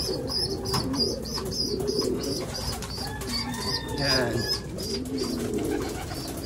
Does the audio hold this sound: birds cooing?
yes